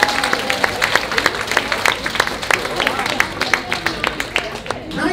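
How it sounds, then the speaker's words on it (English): Audience applause at a cabaret show for a one-man-band singer, a lively patter of claps mixed with crowd murmur and voices, steady and close throughout. "Give him a round of applause."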